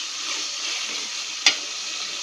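Cow tripe fries in a cooked spice paste with a soft, steady sizzle up close, broken by a single sharp clack of a utensil against the pan midway, no voices.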